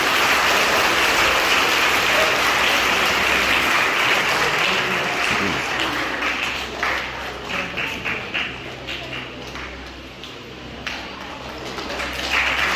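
Applause from an audience at a school elocution competition award ceremony, loud and continuous at first, then thinning into scattered claps in the second half.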